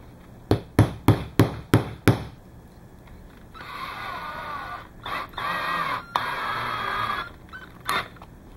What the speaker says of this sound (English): we're going to hammer this into place